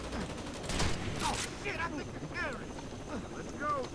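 Gunfire bursts in the video game Rainbow Six: Vegas 2, sharp cracks clustered near the start over a continuous busy game soundscape, with voices talking throughout.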